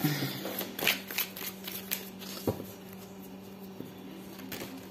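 A deck of oracle cards is shuffled by hand for a reading, a soft riffling and sliding that flutters in quick bursts, close and clear, with no talking over it.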